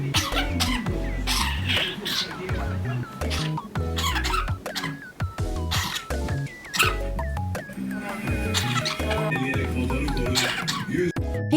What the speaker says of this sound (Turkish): Peki bu kuş sizce öksürüyor mu yoksa öksürük sesini mi taklit ediyor?